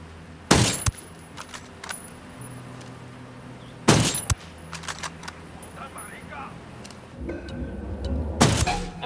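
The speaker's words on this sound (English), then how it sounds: "I'm shooting these fuckers." Gunfire in the video game Ghost Recon Wildlands during a fight at a prison village, with a few loud, widely spaced shots and bursts amid quieter rattles and thuds, and voices talking between them.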